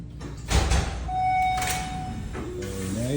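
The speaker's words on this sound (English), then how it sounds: "Very nice, door open." An elevator's sliding door opens with a soft mechanical rumble and thump, followed by a sustained electronic chime tone and a faint rolling slide, close by, in a modernized condominium elevator.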